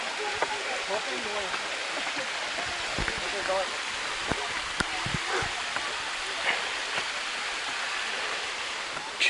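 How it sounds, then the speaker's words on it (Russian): Waterfalls on the 33 Waterfalls excursion make a steady broadband rush of falling water, heard alongside people talking. "Вот такие, ребята, водопады."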